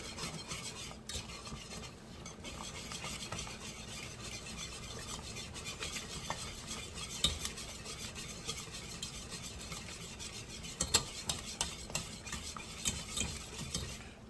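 A spoon stirs a pot of Southern-style collard greens, giving continuous soft scraping and swishing with occasional sharper clinks against the pot, fairly quiet and close, with no talking.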